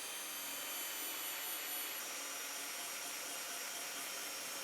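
A Forstner bit bores a relief hole inside a marked circle on a wooden board, giving a steady, loud, high-pitched broadband whir that runs without a break and with no pauses.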